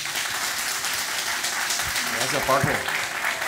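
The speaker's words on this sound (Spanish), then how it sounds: "Un fuerte aplauso." Audience applause in a conference hall welcoming a guest speaker at a summit on the Aedes aegypti mosquito, steady broadband clapping that runs throughout, with a voice briefly speaking over it near the end.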